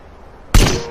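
A single sharp gunshot from a video game, fired at a deer, sudden and loud after near silence, with a short booming tail.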